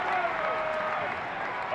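A stadium crowd at a Baltimore Ravens AFC divisional playoff game against the Indianapolis Colts roars and cheers in a steady, loud wash with no breaks, with a commentator's voice present in the broadcast.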